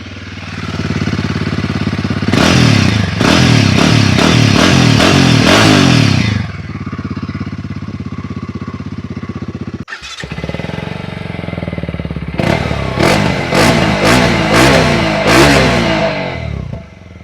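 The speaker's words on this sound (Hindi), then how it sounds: "चलिए दोनों बाइक से एग्जॉस्ट सुनते हैं।" Exhausts of a TVS Apache RTX 300 and a Royal Enfield Himalayan 450 adventure motorcycle, idling loud and close, then revved in repeated sharp bursts, a brief pause, then another deep, thumpy idle with more blips.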